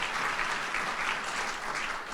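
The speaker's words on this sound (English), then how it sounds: "Let's give them another great big round of applause." An audience at a university building topping-off ceremony applauds, a dense, steady wash of many clapping hands heard throughout the short stretch.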